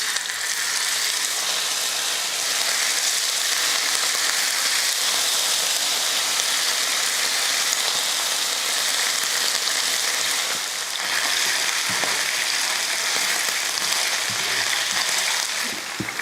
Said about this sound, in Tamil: இப்போ சிக்கன் இதில் சேர்த்து வறுத்துக்கலாம்